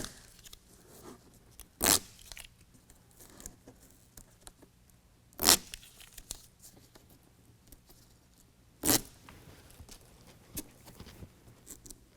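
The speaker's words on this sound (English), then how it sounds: "Go ahead and peel off the protective adhesive cover." A protective adhesive cover is peeled off a BedRug Impact bed mat for a Jeep Gladiator JT, giving three short, sharp ripping bursts spaced a few seconds apart over quiet handling noise.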